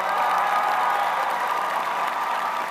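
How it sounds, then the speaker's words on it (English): Sustained applause from a large audience at a spring undergraduate business school commencement ceremony, dense, steady clapping filling the hall without a break. "Graduates, please join me in recognizing and applauding your loved ones for their steadfast"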